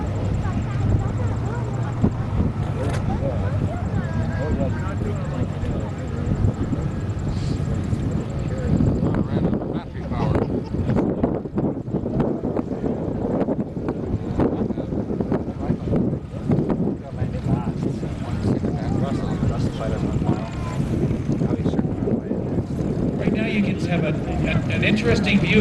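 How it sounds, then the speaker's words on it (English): A Mark 16 Spitfire with a liquid-cooled Merlin engine taxis in at a memorial flight event, a steady broadband engine drone with wind noise on the microphone, running continuously under an announcer's voice. "Vintage Wings president and founder Michael Potter just taxiing in the Mark 16 Spitfire"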